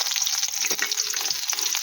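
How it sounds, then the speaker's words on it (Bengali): Onion sizzles loudly in hot oil in a pan with five-spice and chili, a dense, continuous crackling frying sound close up. "পেঁয়াজটাও দিয়ে দিলাম।"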